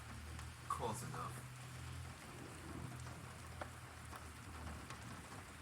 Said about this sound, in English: Yep, and there is heavy rain downpours. And it still is raining